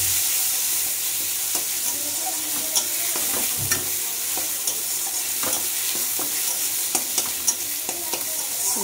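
A spoon scraping and stirring ingredients in a hot sizzling pan during home cooking, with repeated clacking strokes over a continuous fry, close and fairly loud, no talking.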